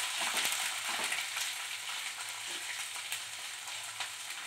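Peas frying and being stirred in a pan for a veg roll filling: a steady, close hiss of sizzling oil with faint scraping from stirring throughout.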